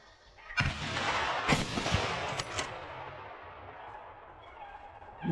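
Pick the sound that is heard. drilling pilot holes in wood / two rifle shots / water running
two rifle shots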